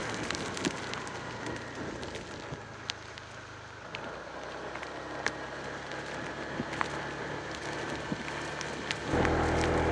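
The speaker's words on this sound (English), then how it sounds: "here comes that rain" Rain starting to fall on a road in East Bali, a steady broadband hiss of drops on surfaces with scattered sharper patters, growing heavier and louder in the final second.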